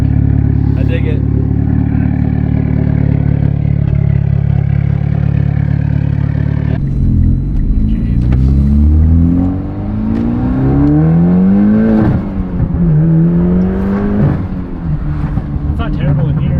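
A Mitsubishi Evo X with a straight-pipe exhaust idles with a loud, deep rumble, then revs up and down in several rising and falling sweeps, up close, with people talking over it.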